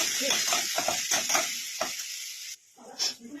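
Ginger and cumin paste sizzles in a hot pan with a bright, hissing fry, broken by several scraping stirs, then briefly quietens before a fresh sizzle flares up, with no talking.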